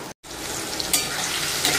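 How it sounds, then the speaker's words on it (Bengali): Vegetables frying in oil in a home kitchen, a steady close sizzle running throughout with a brief dropout near the start and small crackling spikes. "আর এখানে ভেজে নিচ্ছি"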